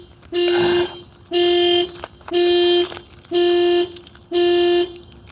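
A car alarm blares in five steady, evenly spaced electronic honks, each about half a second long with short gaps between, loud and close with no voices.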